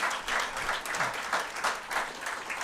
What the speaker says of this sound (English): So a big round of applause for all my lovely team.